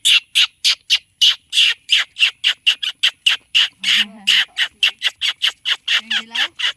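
A black-naped oriole calls in the countryside at Small Baliis, Ihatub, Boac, Marinduque. Around twenty loud, harsh, nasal squawks come in a fast, fairly regular series, close and clear, with a faint low voice briefly underneath.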